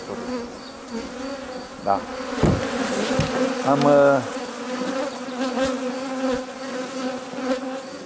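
Honeybees swarm around an apiary of hives with supers stacked in place, a steady close buzzing throughout while a person works nearby with light handling knocks and a brief spoken word.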